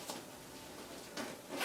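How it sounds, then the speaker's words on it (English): A zipper on a hunting backpack is pulled in two quick, close strokes, with a louder rasp starting at the very end. "the zippers are really great on this pack"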